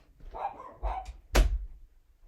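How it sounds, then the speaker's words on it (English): Dogs bark a few times in quick succession, the last bark louder and sharper, with a muffled quality as if from another room. "The dogs are barking their heads off."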